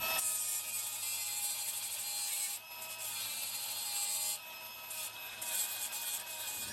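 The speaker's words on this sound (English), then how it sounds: "Now that we've got the inside of the frame rails sanded down with the flap disc" A flap disc on an angle grinder sands the inside of a steel frame rail on a Lexus LX470 (100 Series) during a rear bumper install, producing a continuous harsh abrasive whine that briefly dips and surges as the disc is worked.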